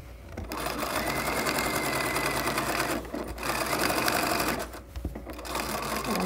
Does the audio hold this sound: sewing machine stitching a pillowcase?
yes